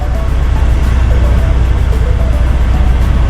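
An automatic truck backs up with a steady, loud low engine rumble that holds constant throughout, close by and without speech.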